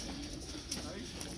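Racing pigeons in crates at a club house, loaded for a 200-mile race, coo softly and continuously under a broad background hum.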